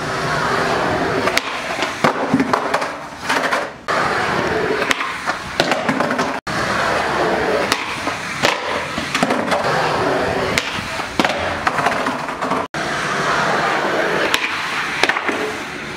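A skateboard hard flip attempt outdoors, with loud board clacks, wheels rolling and sharp impacts of the deck slapping the ground, repeated through the stretch while people talk in the background.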